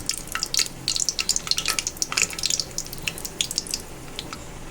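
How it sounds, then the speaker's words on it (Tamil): A small cinnamon piece and a single bay leaf fry in hot oil, crackling in bright, busy bursts of spitting that thin out toward the end, with no voices. "எண்ணெய் நல்லா சூடாயிருச்சு இப்போ ஒரு பட்டை பீஸை நம்ம அதில் சேர்த்துக்கலாம் சின்னதாக ஒரு பட்டை சேர்த்துக்கோங்க அது கூட பிரியாணி இலை ஒரு இலை மட்டும் சேர்த்துக்கோங்க"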